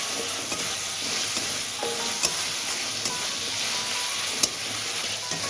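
Tomatoes fry in a pan for a spicy boal fish curry, giving a steady close sizzle with a few sharp clicks and scrapes as a spatula stirs them.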